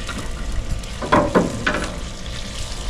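Australian Wagyu ribeye searing with butter on a hot grill, a steady frying sizzle with a few louder crackling bursts near the middle, close and without talk.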